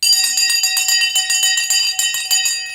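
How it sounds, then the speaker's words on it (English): A stock market closing bell rings loudly in a rapid, steady clatter of bright metallic strikes. It continues for nearly three seconds and a brief low voice murmur comes near the start. "The bell has now gone."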